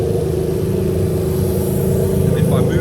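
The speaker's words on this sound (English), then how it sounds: "the engine has fired up. And as you can see, she's running nice and smooth there" A Toyota JZ engine idles smoothly at about 1000 RPM, a steady, continuous low hum that stays close and even throughout with no revving.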